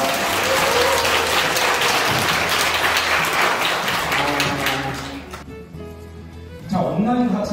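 Applause from an audience at a Catholic online mission lecture, a dense wash of clapping that fades out near the end before a brief voice and a burst of clapping return.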